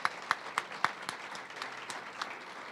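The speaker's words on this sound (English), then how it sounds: "Round of applause for them" Applause at a university athletics director news conference, honouring the search committee, comes as a string of distinct claps from a small crowd, loudest at first and then thinning to scattered claps.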